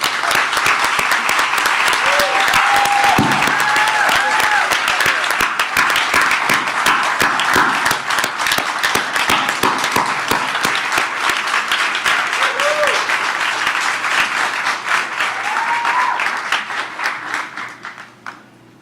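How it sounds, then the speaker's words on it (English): Festival crowd at Essence Fest in New Orleans applauds in a loud, sustained wave of dense clapping with scattered cheers, holding steady for most of the stretch before fading out near the end. "thank them with what we communally accept as applause for the Dennis family"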